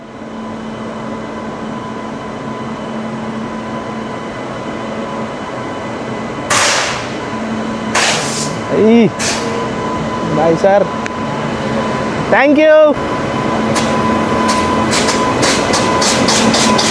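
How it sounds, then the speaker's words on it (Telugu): A Macherla-bound local passenger train heard from on board in Guntur: a steady rumbling, humming drone runs throughout, with sharp clanks and squeals near the end; people talk briefly over it. "మాచర్ల ట్రైన్ ఇదా?"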